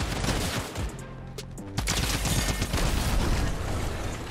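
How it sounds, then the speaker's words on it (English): Drum gun in Fortnite firing in long rapid bursts, a dense rattle of shots with a brief lull near the start and sustained loud automatic fire afterward. "look at that fire rate on that drum gun, bro"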